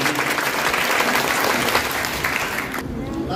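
Loud, dense applause from a crowd at a school quiz competition held for Gandhi Jayanti, sustained for a few seconds and then cutting off abruptly near the end.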